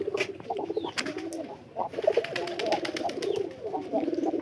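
Domestic pigeons, local birds paired with a Giribaz pigeon, coo in soft repeated rolling calls at close range, steady and overlapping throughout with a few faint chirps.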